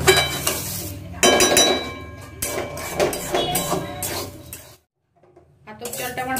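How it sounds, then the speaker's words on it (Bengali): Atap rice dry-roasted and stirred in a pan, with scraping and clinking spatula strokes and a light crackle in bursts, a short pause of silence near the end, and someone speaking over the stirring. "এভাবে করে আতপ চালটা মোটামুটি 4 থেকে 5 মিনিট ভেজে নিতে হবে।"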